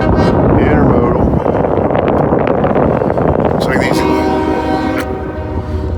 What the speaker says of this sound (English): Another horn salute.